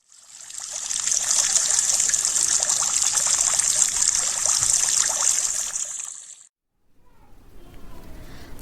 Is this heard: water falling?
yes